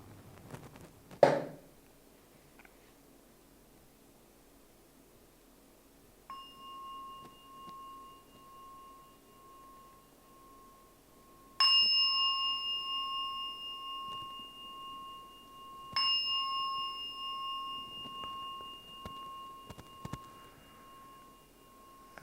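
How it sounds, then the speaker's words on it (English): A meditation gong struck several times, each stroke a clear ringing tone that hums on and slowly fades. The strikes are spaced over a quiet background, with a faint thump near the start. "Please listen to the sound of the gong."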